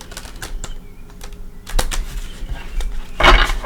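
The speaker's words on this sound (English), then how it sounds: "I like a clean shuffle before we begin." A deck of cards is shuffled up close during a psychic card reading. It makes quick bursts of crisp, ticking riffles and soft slaps, ending with a louder rapid flutter of cards.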